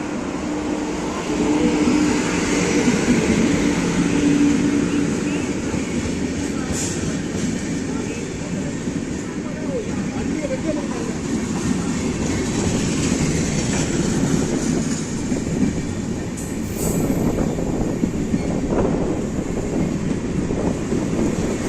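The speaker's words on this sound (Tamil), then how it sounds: "Train is going to traverse through platform number 3." A MEMU express train rolls through platform number 3 at a station, a steady loud rumble of wheels and carriages with wind buffeting the microphone throughout, plus faint background voices.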